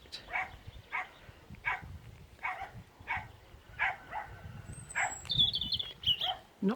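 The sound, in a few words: dogs barking in the background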